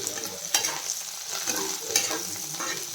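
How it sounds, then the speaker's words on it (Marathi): Sprouted moth bean curry with turmeric is stirred in a pan, giving close, sizzling frying noise with three sharp spoon scrapes against the metal at a slow, uneven pace, and no voices. "तिला पण चांगलं परतून घ्यायचं आणि हळद टाकायची आता थोडीशी। मिक्स करून घ्यायचं।"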